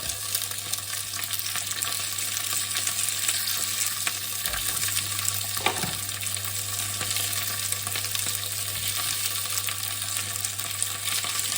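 Chilies frying in a hot pan for a spicy beef pasta, a steady loud sizzle and crackle throughout, with a faint clink near the middle and no talking.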